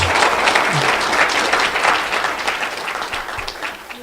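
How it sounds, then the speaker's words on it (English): Audience applause at a school board meeting, a dense, steady wash of many hands clapping that fills the room and tapers slightly toward the end, with no voices over it. "I think we need to give a round of applause for the great things you do"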